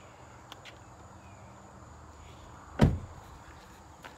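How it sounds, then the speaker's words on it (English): A single solid thump of a 2016 Lexus RX 450h car door shutting, loud and close, against quiet background with faint chirping. "when you shut the door"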